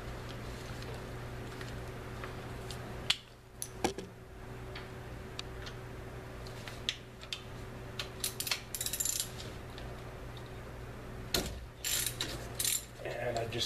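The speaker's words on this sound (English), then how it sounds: "hit with my hand on the socket wrench" Socket wrench ratcheting and clicking while working the front locking hub of a 1985 Toyota 4x4 pickup, with sharp metallic ticks and a couple of louder knocks over a steady background hum.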